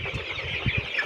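Colorbird chickens in a poultry shed give soft, scattered clucks and low murmurs, with a few louder calls close by over a steady background hiss.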